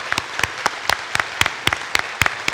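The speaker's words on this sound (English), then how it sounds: "Let's give them all a round of applause just for coming and speaking" Audience at a 2024 election hustings giving the candidates a round of applause, a sparse, steady patter of individual claps filling the hall.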